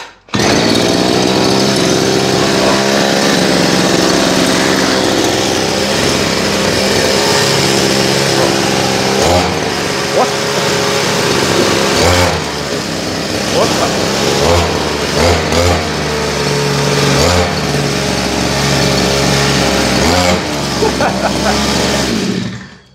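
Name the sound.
bicycle powered by an earth auger engine, accelerating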